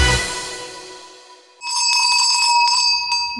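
A bell rings out loudly and close, its first strike fading away before a quick run of repeated rapid dings that ring on.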